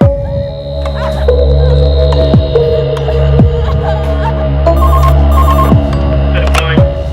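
A telephone rings while a call is placed to the police, a repeating electronic ring over a loud humming drone, with dramatic swooshes and tones layered on top.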